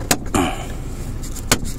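A plastic interior light cover on an MG6 snapping into its hinges inside the car, heard as a few short, sharp clicks close by with quiet cabin background and no talk.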